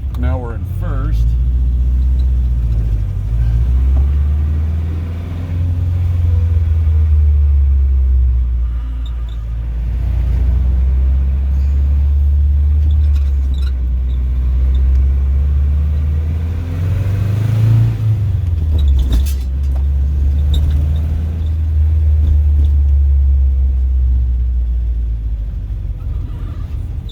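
A Saab 96 Deluxe V4 car driving in first gear, its engine a loud, close rumble that rises and falls as it revs and eases off, with someone talking over it.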